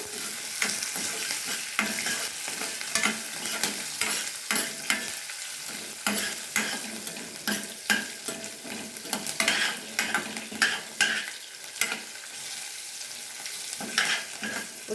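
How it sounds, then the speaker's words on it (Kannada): Curry leaves and green chillies frying in hot oil in a tempering pan, a loud, continuous close sizzle with sharp crackles and pops and occasional stirring scrapes, with no voices. "ಈ ಕರಿಬೇವು ಹಾಕ್ತಾ ಇದ್ದೀನಿ ನೋಡಿ ಮೆಣಸಿಕಾಯಿ ಹಾಕ್ತಾ ಇದ್ದೀನಿ"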